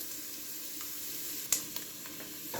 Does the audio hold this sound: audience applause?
no